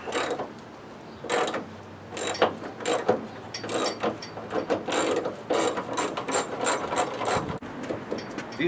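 Ratchet wrench with a 9/16 socket clicking in repeated bursts as it backs out car hood hinge bolts, close and loud with short pauses between strokes.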